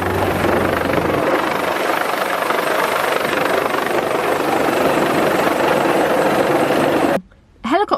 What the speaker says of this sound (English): The helicopter must have been about a metre or two above the mast at this point.